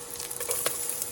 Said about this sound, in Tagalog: Gigisa muna natin yung sibuyas.